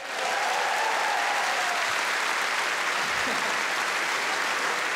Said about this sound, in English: So a round of applause for our front row.